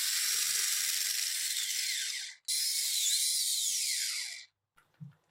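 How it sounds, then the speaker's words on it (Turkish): Cocoa, baking powder and vanilla whisked into a soufflé batter, a loud continuous rattling whir in two long bursts with a brief pause between, then stopping, followed by a faint clunk. "Kakoyu, kabartma tozunu, vanilini ve çırpıyorum tekrar."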